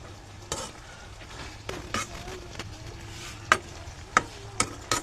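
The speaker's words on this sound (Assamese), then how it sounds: "এতিয়া তৰকাৰীখিনি মই ভালকৈ লৰাই দিছোঁ" A spoon stirs vegetable curry in a pan with a low simmering sizzle underneath, punctuated by several sharp scrapes and taps against the pan that grow more frequent toward the end.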